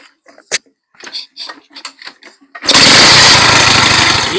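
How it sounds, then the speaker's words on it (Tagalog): A Bajaj CT100 motorcycle engine kicks into life and keeps running loud and close, with a steady buzzing roar that follows a stretch of someone talking. "Ngayon, pag binuhay natin yung motor,"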